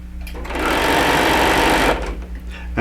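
Sewing machine stitching an appliqué with zigzag and straight stitches, a close steady whirring run of about a second and a half that starts and stops cleanly, with low background hum around it.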